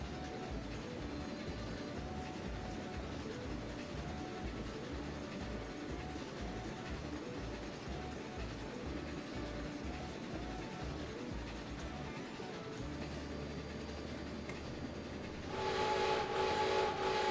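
A train running in the Trainz railway simulator game, a steady rumbling roll with rhythmic low thumping of wheels, then a sustained horn-like tone sounding near the end.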